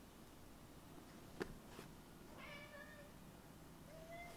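A cat gives a couple of soft, quiet meows in a hushed room, preceded by a brief knock.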